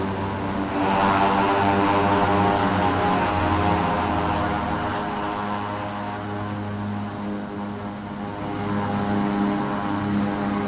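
A fixed-wing regional aircraft's propeller engines at takeoff make a loud, steady droning hum with layered tonal harmonics that swells and holds for several seconds, close and continuous, with no talking.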